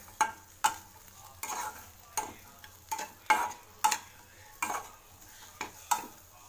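Spatula scraping and tapping a pan as dosa fry pieces are tossed with salt, about a dozen sharp, regular strokes close up over a quiet background sizzle, with no voices.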